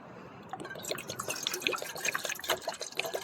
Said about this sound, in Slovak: tam naleje vody